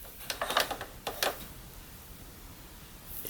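A sewing machine runs a stay stitch on a Star Wars jacket in two short, close whirring bursts, followed by quiet.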